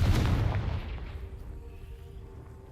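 A fire spell cast in the video game Hogwarts Legacy bursts in a loud, booming explosion at the start, then a long rumbling tail fades away over a couple of seconds.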